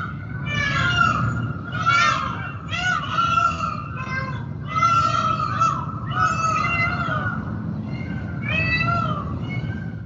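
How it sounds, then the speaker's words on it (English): Peacocks calling during mating season behind a building, a series of loud, piercing, wailing cries repeated in a steady rhythm over about ten seconds, close by and mostly alone over faint background rumble. "Those are the peacocks behind my building, and it is definitely mating season."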